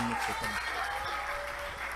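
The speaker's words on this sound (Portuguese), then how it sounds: "Você pode aplaudir Jesus por essa palavra?" Church congregation applauding at the close of a worship service, a steady wash of clapping with some voices mixed in throughout.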